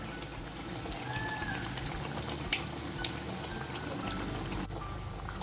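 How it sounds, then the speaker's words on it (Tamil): Raw banana bajji fry in hot oil with a steady, rain-like bubbling hiss, close and constant, dotted with a few small pops. "நல்லா ஃப்ரை ஆகட்டும்."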